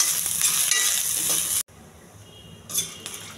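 Urad dal, chana dal, dried and green chillies and ginger fry in hot oil for a tempering, a steady close sizzle with a few utensil clinks, cut by a brief pause before the crackle returns.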